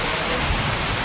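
Heavy rain pouring near Rishikesh, a dense, loud, continuous hiss of drops on surfaces with no break.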